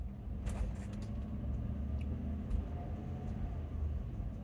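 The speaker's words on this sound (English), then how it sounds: "it's good to drive the motorhome anyway" A motorhome being driven gives a steady low engine rumble and road drone, with a few brief rattles and knocks from the body, close and continuous.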